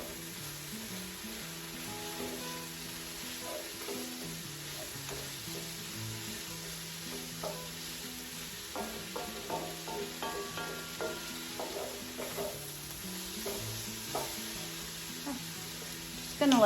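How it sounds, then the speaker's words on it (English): Pork browning in homegrown beef tallow, a steady close sizzle and crackle of frying with occasional stirring and pan clinks, continuous throughout with no talking. "I'm just browning them in some homegrown, home harvested beef tallow."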